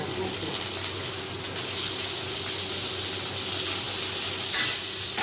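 Small onions frying in oil in a pan for tomato chutney: a steady, close hiss of sizzling throughout, with no talk.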